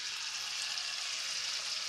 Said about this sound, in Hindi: अब मैं मालपुआ छोड़ देती हूँ इसमें फ्राई करने के लिए